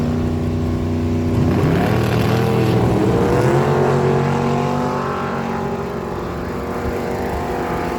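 Loud, sustained roar of a drag racing dragster engine revving and pulling away at a Miramichi dragway, engine tones sweeping upward as it accelerates down the strip, with a dense rumbling drone throughout and no talk.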